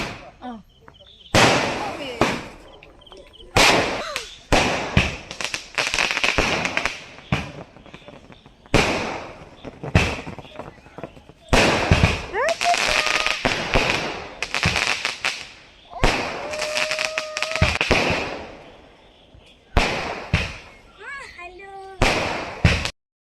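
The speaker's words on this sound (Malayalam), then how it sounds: "പടക്കമുണ്ട്." Loud firecrackers burst in rapid, crackling volleys with short pauses between them, while people talk and shout nearby at a birthday and Onam celebration.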